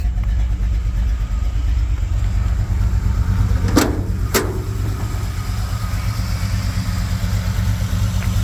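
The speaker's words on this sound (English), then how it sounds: "Great sounding engine." A 1965 Chevy C10 truck engine idles steadily with a low, even rumble, close by, with two brief sharp clicks partway through.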